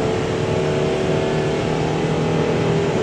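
A 2015 Thor Freedom Elite 22E small Class C motorhome with low miles accelerates up a steep hill toward 55 mph, its engine and road noise forming a loud, steady, continuous drone from the cab.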